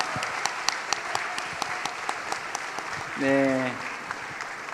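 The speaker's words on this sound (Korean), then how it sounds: "박수로 하나님께 영광 올려드리겠습니다." A church congregation claps through a Christmas thanksgiving service, a dense patter of many hands carrying on steadily. A voice speaks briefly partway through.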